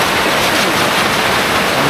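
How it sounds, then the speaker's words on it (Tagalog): Strong wind drives heavy rain during a storm around a hanging tree house, making a dense, constant hiss and rush that stays loud and even throughout, with no speech. "Malakas ang hangin."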